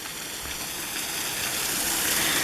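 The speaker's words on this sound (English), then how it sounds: "a tributary of the main waterfall that just came over here and slowly trickles down" A small stream branching off a waterfall trickles and rushes steadily at Toccoa, Georgia, a constant close wash of flowing water that swells slightly louder toward the end.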